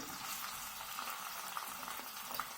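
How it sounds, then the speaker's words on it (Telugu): Carrot pieces, ginger and onion sizzle steadily in hot oil for upma, a constant close frying hiss with faint scattered crackles and no voices. "ఉప్మాలోకి క్యారెట్లు వేస్తున్నా క్యారెట్ ముక్కలు అల్లం ముక్కలు ఉల్లిపాయలు"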